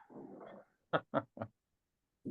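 A dog nearby growls briefly, then gives a few short whimpering yips separated by silence, fairly quiet and alone.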